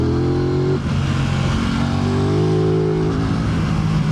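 Aprilia RS 660 motorcycle engine on an open road, a steady loud hum with a shift in pitch partway through as it cruises, continuous throughout with no talking.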